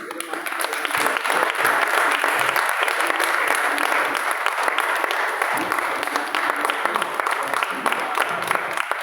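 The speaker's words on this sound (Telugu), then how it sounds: "చప్పట్లు కొట్టండి." Sustained applause from a large audience, dense and steady clapping throughout with a faint murmur of voices underneath.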